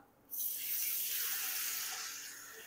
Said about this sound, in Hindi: साथ इसमें थोड़ा सा पानी डाल दूंगा।